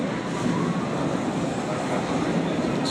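A train rolls along in a steady low rumble heard from inside the carriage, a continuous moderate drone of wheels and motion with no talk over it.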